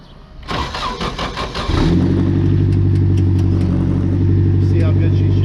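An off-road car engine, a dune buggy, cranks and fires up, then settles into a loud, steady idle right up close, with a voice talking over the cranking.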